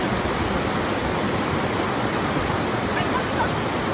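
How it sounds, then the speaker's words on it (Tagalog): A strong river current rushes at a river in General Luna, a dense, loud and unbroken roar of water heard up close with no voices over it. "ipaparinig ko nga sa inyong mga mare kung gaano nga kalakas ang agos dito"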